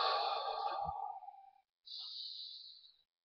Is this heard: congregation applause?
no